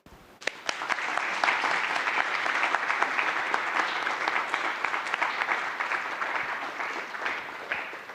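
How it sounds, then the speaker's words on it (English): An audience at a university computer graphics rendering competition breaks into sustained applause, many hands clapping densely and evenly for several seconds before tapering slightly. "So please join me in a round of applause for them."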